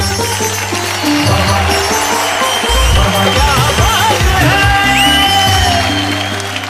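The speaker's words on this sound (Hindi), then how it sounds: "जरा जोरदार तालियां" A studio audience at a television show applauds and cheers, with continuous clapping, shouts and whoops mixed with music and a voice over the crowd.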